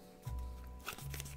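A deck of trading cards is riffled and shuffled at a card game table, giving a quiet burst of papery flutter that pauses and then resumes, close by and soft.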